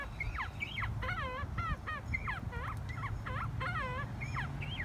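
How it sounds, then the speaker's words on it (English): Quail kept in a backyard pen give a run of short, bright, repeated chirping calls in quick bursts, close and clear over a steady low rumble, with no talking. "Yes, those are quail."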